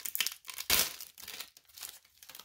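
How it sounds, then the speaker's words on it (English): A Gypsy Queen trading card pack is torn open, giving close, loud crinkling and ripping of foil wrapper in quick irregular bursts with one strong tear partway through. "I just tore all the cards up doing it."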